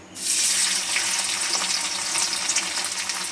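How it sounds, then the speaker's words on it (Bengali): Small cubes of paneer, uncoated, sizzle loudly in hot oil in a pan. The frying is a steady close hiss that starts abruptly and carries on for a few seconds with no talking. "পনিরটা আমি আগে ভেজে নেব তেলে"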